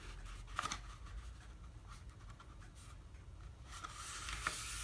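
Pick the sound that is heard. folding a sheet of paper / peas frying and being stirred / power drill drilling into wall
folding a sheet of paper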